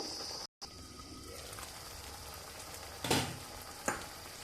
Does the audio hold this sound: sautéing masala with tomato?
yes